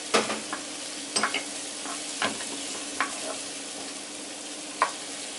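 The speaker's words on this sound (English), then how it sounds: "I'm now going to add the red pepper, because I want to start getting those, cooking them down as well" Red peppers sizzle steadily in a hot pan, with a few scraping stirs and clacks of a utensil breaking through the constant frying hiss.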